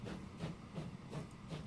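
Steam train running on rails in the Transport Fever 2 game, set in 1850: a quiet, steady chuffing with regular puffs of hiss about every 0.4 seconds over a low rumble, with no talking.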